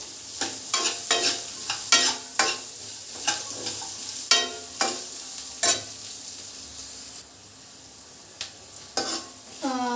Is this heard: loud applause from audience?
no